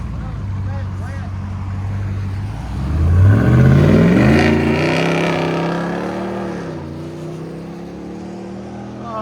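A 2024 RAM 2500 pickup with a 6.4L HEMI V8 and Borla ATAK exhaust idles with a deep burble, then revs up hard as it pulls away, the loud exhaust note rising and settling into a steady drone in the rain.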